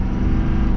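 A 2024 Ford F-450 high output pickup truck accelerates, with a loud, steady engine roar and road rumble throughout and no voices.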